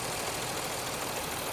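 A 2013 Porsche Cayenne S hybrid with a supercharged 3.0L engine idles with one ignition coil disconnected while hot, giving a steady, even drone and broad hiss without notable change or voices.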